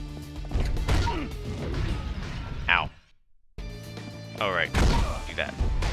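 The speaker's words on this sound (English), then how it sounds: "And more explosions." Repeated crashing game explosions and sharp impacts, loud and busy, broken by a brief silent gap, with a voice talking over them.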